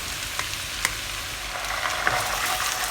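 Ingredients with spicy bean paste frying in a pan over medium heat, giving a steady, even sizzle with scattered soft crackles and pops, heard alone with no talking.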